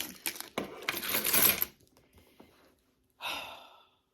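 Keys jingle as they are pulled from a Marc Jacobs tote bag, a few bright metallic clinks and rattles up close, then a short quiet pause and one more brief jingle.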